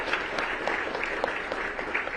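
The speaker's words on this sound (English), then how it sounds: "Please give him a big round of applause." Seminar audience at a diabetes conference giving a round of applause, a steady, moderately distant patter of many hands with scattered sharper claps, no talking over it.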